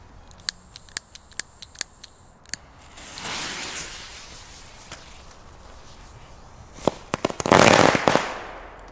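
A Naughty Boy Lesli firework battery ignites with a rapid string of sharp pops as its lids burst out, then a hissing rush follows, and a final cluster of loud crackling bangs closes the sequence, heard alone outdoors.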